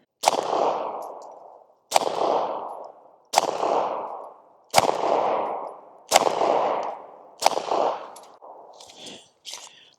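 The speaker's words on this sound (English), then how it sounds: "Let's go ahead and shoot a group 5 or 6 rounds on the top left side of the target." Pistol shots fired at a paper target through an enclosed red dot sight, with mixed 124 and 150 grain ammunition: seven sharp, loud cracks at even intervals of about one and a half seconds, each ringing out, the last two closer together.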